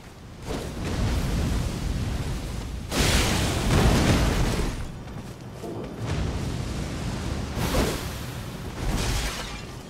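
Fire spell in Elden Ring setting an enemy ablaze in Sage's Cave: loud roaring whooshes and bursts of flame in several surges, swelling and fading, with no talk.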